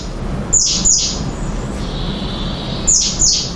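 Birds calling in a continuous outdoor field recording, with two pairs of sharp high squawks standing out over a steady background of chirps and ambient noise.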